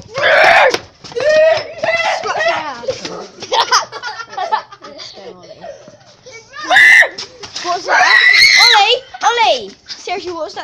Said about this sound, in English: what was that screaming noise?